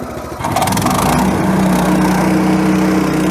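A GTM LC80R petrol wood chipper runs loud and close, its small engine roaring steadily after a sharp rise in the first half second, a constant droning tone with rattling mechanical noise.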